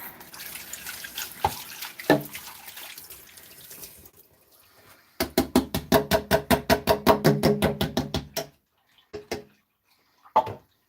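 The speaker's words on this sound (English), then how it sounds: "rinse my funnel" Tap water runs into a sink while a funnel is rinsed, first as a steady splash, then as a quick series of rhythmic sloshing pulses, and ends with a few scattered drips and clunks.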